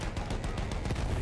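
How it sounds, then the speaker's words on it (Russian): Artillery guns firing in Battlefield 1: dense, continuous thuds and rumbling blasts blend into a loud, steady barrage of battle noise. "Вот оно, там где-то орудие бьет."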